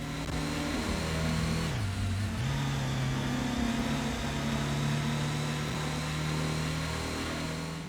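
A race car's engine drones and shifts pitch as it drives the Trial Mountain circuit in the Gran Turismo PS1 video game, a continuous loud synthetic engine note rising and falling through gear changes.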